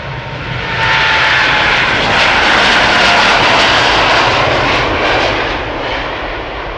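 A KLM Boeing 787-10 Dreamliner at Schiphol Airport produces a loud, steady jet engine roar that swells and then eases slightly, heard alone without talking.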